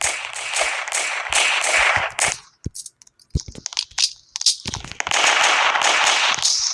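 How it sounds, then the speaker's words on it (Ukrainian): Rapid bursts of automatic gunfire in the video game Brookhaven RP rattle loudly, pause with scattered single shots and cracks, then resume in another long sustained volley. "Ай, по мені стріляють."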